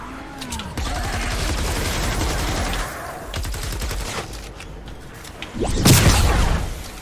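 Rapid bursts of gunfire from a weapon in Fortnite Save the World, loud, close and repeated, with heavier impact blasts near the end over game ambience.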